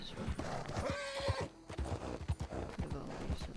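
A horse in a video game gives a short neigh amid repeated hoof thuds, clip-clopping close by with a few loud steps, with no talking.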